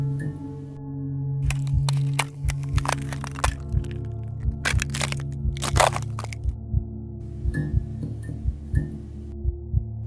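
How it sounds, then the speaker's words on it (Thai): Repeated sharp cracks and crunches snap out in irregular bursts over a low steady hum, like something slowly splitting and breaking apart. "เป็นเสียงที่มีอะไรค่อย ๆ แตกออกมา"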